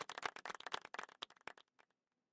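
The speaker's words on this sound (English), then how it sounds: "Let's give ourselves a round of applause." A small group applauds and claps during a stream, a dense burst of hand claps that thins out and stops after about two seconds, fairly faint and with no talking over it.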